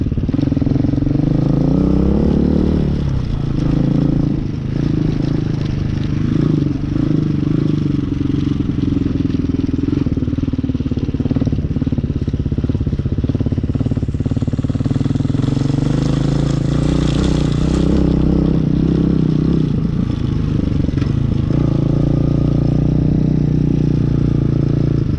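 A street-legal dirt bike bought from Amazon is ridden close by, its engine droning steadily and loudly for the whole stretch, with the pitch rising and falling as the rider works through the gears.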